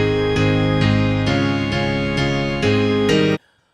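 Recording of the hymn tune Lennox, "Arise, My Soul, Arise", played as sustained chords changing in steady rhythm, full and loud, ending abruptly.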